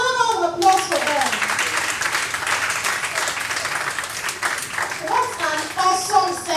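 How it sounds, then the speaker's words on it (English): Audience applauding panelists at a corporate social responsibility event for girls in technology, a dense steady wash of clapping lasting throughout, with a few voices calling out over it near the start and end. "Please, another round of applause for them."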